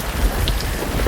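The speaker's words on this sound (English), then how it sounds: "It's my lightning sound effect." Storm-mode lightning effect on a Nanlite PavoTube II light: a loud, continuous rumble of thunder and heavy rain fills the whole short stretch.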